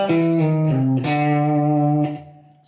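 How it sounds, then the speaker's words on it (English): A slow country guitar lick, a few distinct notes, some bending and sliding, each ringing for a moment before fading at the end. "So that second part slow sounds like this."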